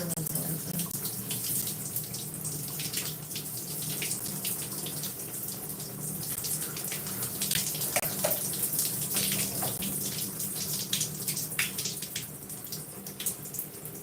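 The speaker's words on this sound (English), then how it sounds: "So we're just rinsing it out." Tap water runs steadily while hair is rinsed out, a continuous close splashing stream with small spatters and shifts as the flow hits hair and basin, without talk.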